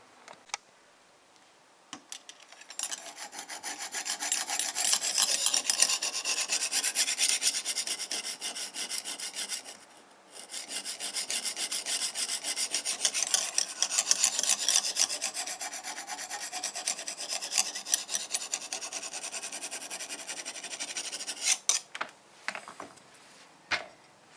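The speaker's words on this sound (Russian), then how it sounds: "Ну и все, начинаем точить." A knife blade is sharpened on a Lansky guided sharpening system with repeated rasping strokes of the stone along the steel. The strokes make a continuous scratchy rubbing that breaks off once midway and ends in a few scattered scrapes.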